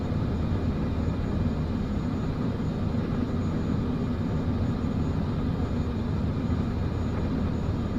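An airplane engine in Microsoft Flight Simulator 2024 runs during the takeoff roll, producing a steady, loud, broadband drone that holds constant throughout, with no voices.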